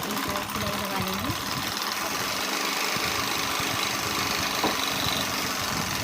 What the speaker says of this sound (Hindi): अब हम इसमें इस तरीके से एक और सिलाई लगा लेंगे